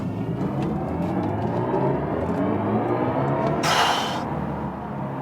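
Cabin of a BMW i4 M50 electric sedan accelerating hard in sport boost mode, with a steady loud low rumble and whir from road and motor throughout and a brief burst of wind-like hiss near the end.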